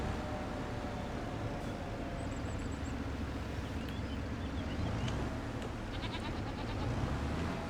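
Sheep and goats on a farm in the Farming Simulator 25 video game, with scattered faint bleats over a dense, steady bed of ambient outdoor noise and no talking.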